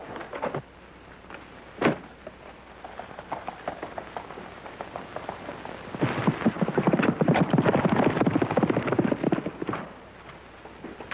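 Horse hooves clopping, scattered at first, then a dense rapid galloping rhythm that builds loud and close before fading out.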